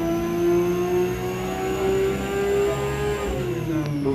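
A Kawasaki Ninja motorcycle engine revs hard on a dyno at a shoot-out, a loud sustained whine climbing steadily in pitch, then easing off at the end with no talk.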